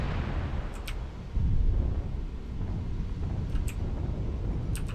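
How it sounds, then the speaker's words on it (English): A heavy rumbling blast of artillery strike explosions in the MechWarrior video game, a dull low boom swelling over constant engine-like rumble with a few faint metallic ticks, no talk. "Artillery strike online."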